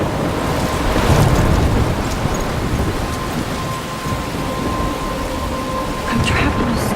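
In Life is Strange, a thunderstorm pours heavy rain with loud rolling thunder swelling near the start, a dense and steady roar of downpour throughout.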